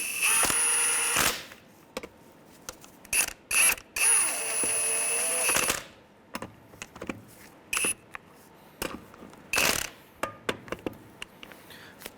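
Ratchet with a 19 mm socket snugging lug nuts on a Honda Element wheel, sounding as bursts of rapid clicking separated by pauses, close and fairly loud.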